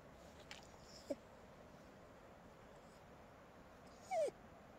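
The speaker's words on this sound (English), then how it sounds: "I don't know if all Chihuahuas and Min Pin mixes are as talkative as she is." A Chihuahua and Min Pin mix dog gives two short, soft whimpers about three seconds apart, faint and close against a quiet, steady background.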